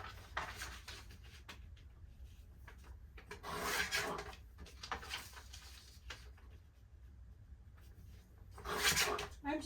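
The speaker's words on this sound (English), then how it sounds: "I'm just trimming this paper up" Paper being cut down with a paper trimmer on a tabletop, giving two distinct rasping, rubbing passes several seconds apart over a low steady hum, fairly close and moderately loud.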